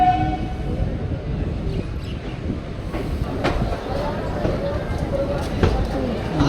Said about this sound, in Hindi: तो ट्रेन जो है ना अपनी अराइव हो रही है अपने पहले ऑफिशियल हॉल्ट पर, जो कि है चंडीगढ़ रेलवे स्टेशन।